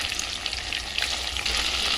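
Pieces of chicken sizzling in hot mustard oil while cooking garlic chicken, a close, steady crackling fry with small popping spurts, alone without any voices.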